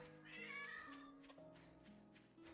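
A cat in a zombie survival video game lets out a drawn-out, wavering yowl that sits faintly under a steady layer of game music and ambience.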